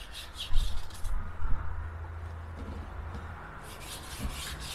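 Shampoo being spread and rubbed onto a motorcycle tire during fitting on an old boxer motorcycle, a soft close rubbing and smearing with a few louder strokes early on, then quieter steady rubbing.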